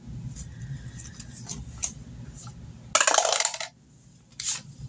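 Quarters clink and jingle as they are dropped into savings envelopes, with a few light taps followed by one bright cascade of metallic coin sounds over a low background hum.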